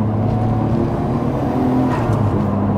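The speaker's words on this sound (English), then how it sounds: "Give it a quick throttle the accelerator." A tuned 600 hp Nissan R34 Skyline GT-R given a quick stab of throttle, its engine note rising in a loud, rumbling surge heard from inside the car, steady for a few seconds without talk.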